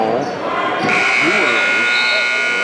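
A sustained electronic buzzer ends the half at a girls' varsity basketball game, sounding across a noisy gym with crowd noise and a loud announcer's voice underneath.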